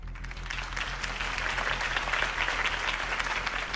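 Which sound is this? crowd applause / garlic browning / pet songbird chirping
crowd applause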